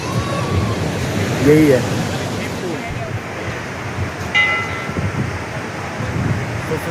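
The Saraswati river rushes under Bhim Pul, a stone bridge near Mana village in the Uttarakhand mountains, giving a loud, steady roar of turbulent water. Someone talks briefly over it and a few other voices sound faintly in the background.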